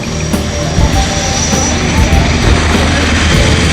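An aircraft flies past at the Avignon air show, its engine roaring loud and steady close overhead, with a propeller-like drone holding throughout the pass.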